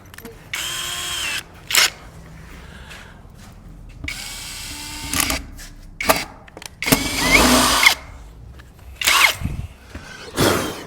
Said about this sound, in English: I just shoved that drill right into the plastic